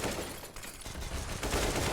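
Rapid gunfire in Counter-Strike on the Overpass map, a dense burst of shots over two seconds against busy match noise, with no clear speech.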